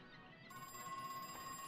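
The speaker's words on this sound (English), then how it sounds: "I can hear again, so I know that the phone is ringing this time" Telephone ringing in the video game Crow Country, a short electronic ring tone starting abruptly, steady and fairly quiet, with no talk over it.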